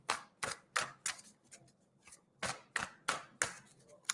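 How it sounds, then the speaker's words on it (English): Tarot cards shuffled by hand during a live reading: a close, crisp run of quick papery riffling bursts in uneven groups, about three per second, with a short pause in the middle and no talking. "So I'm just giving it a good shuffle."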